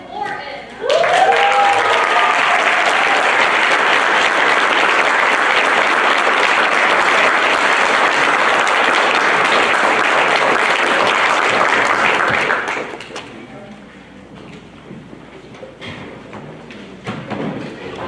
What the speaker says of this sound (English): Let's have a round of applause for Miss Morton.